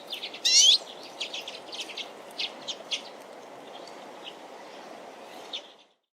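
A redpoll calls in a run of quick, high chirps and short buzzy notes, one louder burst early and then a loose series of fainter calls, over a soft steady hiss.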